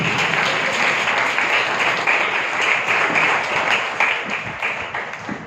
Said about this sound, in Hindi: जोरदार ताली बजाइए यीशु मसीह के लिए